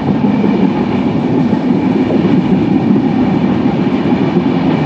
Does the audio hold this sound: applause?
no